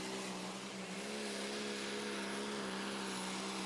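The big block engine of a John Deere 6030 pulling tractor drones as a steady, distant roar at a pulling event, with a constant low hum and no breaks.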